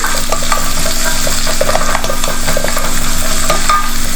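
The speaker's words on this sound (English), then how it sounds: "Now I am adding the jackfruit core pieces. Just keep sauteing it and allow it to cook." Jackfruit core pieces sauté in oil and masala with loud, close sizzling and a steady run of scraping, clattering stirs against the pan, no speech.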